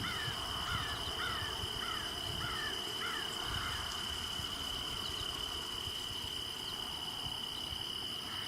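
Crows cawing in a rapid series of harsh calls during the first few seconds, set against a steady outdoor bed of insect buzz and low rumble, with the calls fading out partway through.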